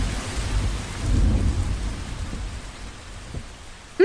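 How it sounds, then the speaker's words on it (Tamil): Sudden heavy rain pours down in a forest, a steady dense hiss with low rumbling, as of distant thunder, continuing without talk before a brief sharp sound at the very end. "சடனாக மழை வந்துடுச்சு"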